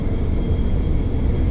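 A Top Mach F22A Raptor model jet engine roars steadily at 75% throttle, a loud, dense, unbroken turbine rush with a faint high whine on top.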